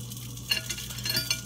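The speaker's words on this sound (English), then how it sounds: "So we've got Mr. Sausage frying for 7 minutes and 30 seconds." A sausage fries in a pan with a low, steady sizzle and faint crackle, plus a couple of light scraping clinks from stirring or utensils, quiet and close with no talking.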